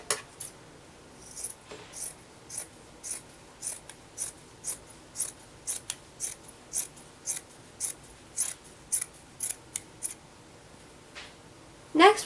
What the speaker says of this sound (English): you're going to cut the bottom seam off of the bottom of the shirt